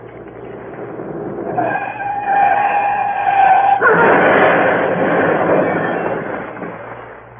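Large green Daimler skids with a long tyre squeal, then crashes in a loud burst of impact and debris that fades out, staged in a radio drama adaptation of The 39 Steps.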